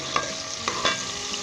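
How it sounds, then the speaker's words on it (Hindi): Ginger and garlic stir and fry in a pan over medium heat, giving a soft, steady sizzle broken by a few light scrapes of the spoon, with no voices. "मीडियम आंच के ऊपर ब्राउन कर लेंगे, लाइट गोल्डन ब्राउन कर लेंगे।"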